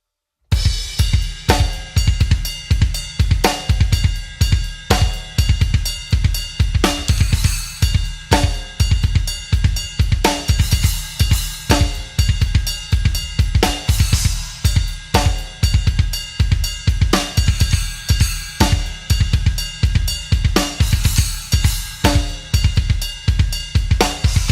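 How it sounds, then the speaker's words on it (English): A live drum kit plays a tight, repeating groove in seven with kick drum driving the pattern and bright splash cymbal accents shifting around the bar, loud and close, sustained for over twenty seconds with no talking. "I'm using the splash cymbals just to sort of accent what's going on with this"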